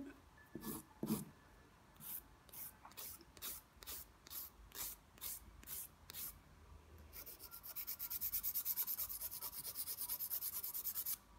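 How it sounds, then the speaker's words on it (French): A file rasps over an acrylic gel fingernail in quick, evenly spaced strokes, then speeds into a faster, continuous back-and-forth scraping; close and fairly quiet, with no talking. "je lime toujours"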